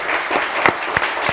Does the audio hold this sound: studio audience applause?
yes